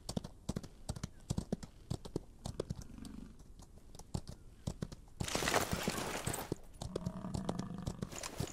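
Steady clip-clop of horse hooves in a quick rhythm in the video game Outlaws of the Old West, joined midway by a brief rush of loud noise, with faint tones later on.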